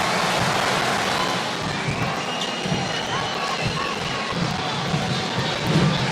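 A capacity arena crowd in the WWE 2K15 wrestling video game roars and cheers continuously, a loud dense wash of noise with no break.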